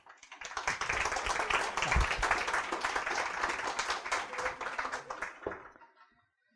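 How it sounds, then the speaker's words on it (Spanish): Warm applause from a lecture audience greeting a speaker, building quickly from a few claps into full clapping that holds for several seconds before tapering off and stopping. "un fuerte aplauso para ti"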